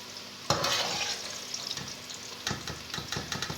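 Potatoes sizzle loudly in a hot frying pan, with scraping stirs and clinks of a utensil against the pan.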